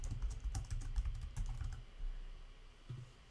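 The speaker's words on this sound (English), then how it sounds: "So I'm going to go ahead and type in my Xbox username here" Keys on a computer keyboard being typed in a quick close burst of clicks that stops partway through, followed by a quiet pause and a single soft tap near the end, no voices.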